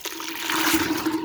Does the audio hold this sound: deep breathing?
no